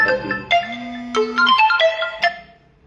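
A phone ringtone plays alone, loud and close, as a bright electronic melody of quick stepping tones with one longer held note.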